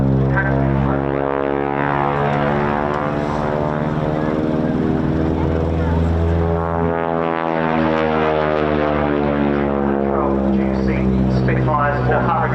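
Droning propeller aircraft engine at the RAF Cosford air show, a steady loud, harmonic-rich roar that swells and fades slightly across the whole stretch, while a commentator talks over it.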